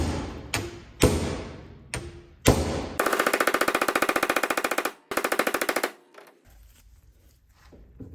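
A stuck part on a 1963 Corvair body is struck with a few separate heavy metallic blows. Two long bursts of rapid, rattling impacts follow, and then the sound trails off into quiet shop noise.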